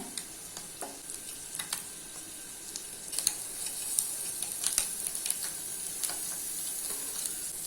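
Eggs fry on a tawa over a medium flame, a continuous soft sizzle broken by occasional light scraping and tapping from a utensil, with no talking.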